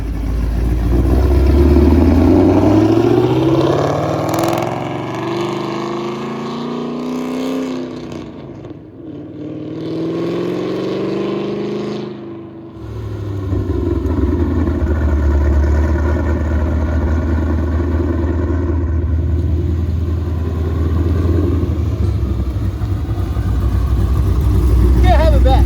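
Ford Mustang V8 with aftermarket exhaust revving, engine note rising and falling through rev sweeps with pops and gurgles on deceleration, loud and close, with people talking over it.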